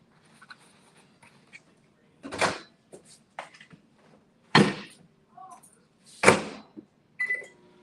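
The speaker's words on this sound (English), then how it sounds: "I'm going to cook this in the microwave" A microwave door opens and shuts with a few sharp knocks and clatters, mixed with lighter clicks that could be buttons being pressed while bacon on a paper towel goes in to cook, close by in a quiet kitchen.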